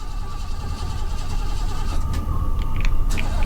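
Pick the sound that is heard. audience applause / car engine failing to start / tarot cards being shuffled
car engine failing to start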